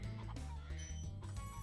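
A chicken clucks in the video game Spyro the Dragon, a quick run of close, fairly quiet clucks and squawks set over a looping musical background.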